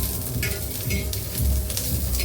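Whole cloves of garlic sizzle and crackle as they roast in a pan for spicy green pea thecha, a steady loud frying hiss with occasional stirring scrapes.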